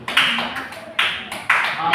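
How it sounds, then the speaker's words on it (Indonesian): A classroom group claps in short rhythmic bursts, three or four sharp, noisy rounds of hand claps, each fading quickly. "Oke, tepuk tangan."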